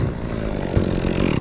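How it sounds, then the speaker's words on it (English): A chainsaw runs at full throttle while cutting a tree during a removal job, a loud, close, continuous buzzing that cuts off abruptly at the end. "there's chainsaw, chainsaw, chainsaw, chainsaw"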